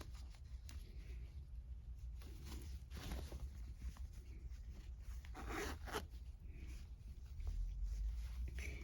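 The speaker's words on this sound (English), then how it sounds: "I'm going to open the zipper back up." An invisible zipper being opened back up on a sewing project, giving soft scratchy rustling and brief ripping textures close by, with handling noise throughout.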